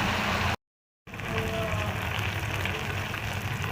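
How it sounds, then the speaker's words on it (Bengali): Bata fish fry in hot oil with a steady, close, crackling sizzle like rain on a surface, continuing evenly after a brief dropout near the start. "মাছগুলোকে পুরো লাল লাল করে আমি ভেজে নিয়েছি"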